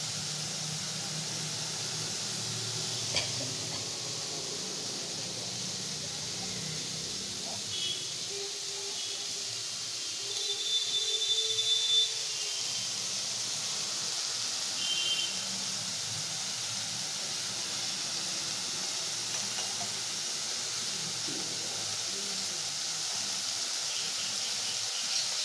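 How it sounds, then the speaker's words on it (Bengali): Banana stem dish sizzling as it fries in a pan, a faint, steady hiss that continues without break and rises slightly for a moment partway through. "দেখুন কোর্তা ভাজা ভাজা হচ্ছে"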